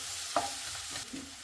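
Turmeric and salt being stirred in a frying pan for tamarind rice, a soft sizzle underneath with a spoon clink and scraping strokes against the pan, close and fairly quiet.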